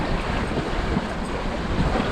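Steady wind buffeting and water rushing past the hull of a sailboat under way on Lac Saint-Pierre, a broad, even wash of surf and wind noise with no voices.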